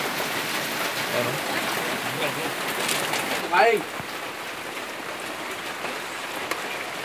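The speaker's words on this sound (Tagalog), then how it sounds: "Parin ng ulan, no?" Steady rain falling at Caliraya Lake, a constant soft hiss with scattered drops on surfaces, while a person briefly exclaims midway.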